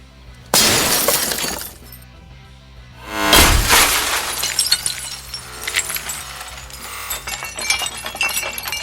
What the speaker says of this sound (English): the SOG Force pierced through the car window